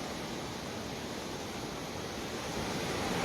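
Floodwater of the Gambhir river near Sawai Madhopur rushes during the rainy season, a dense constant roar of turbulent water with no voices.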